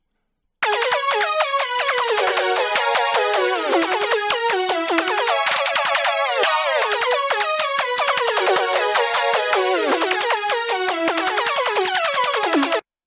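A Eurobeat-style synth brass patch built in Serum, with LFO vibrato and full pitch bend, plays a loud continuous melodic riff of bright stacked tones with a wavering pitch, heard alone.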